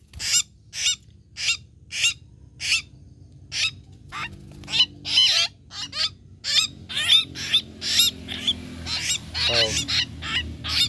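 Pet coleto birds calling at close range, a regular series of loud, harsh honking squawks repeating about every half second, later overlapping into denser, more varied chattering calls.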